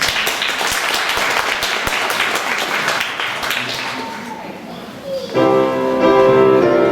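Audience applause for the Luunja song choir: sustained clapping with sharp individual claps, fading down before a burst of sustained tonal sound, likely voices or music, takes over near the end.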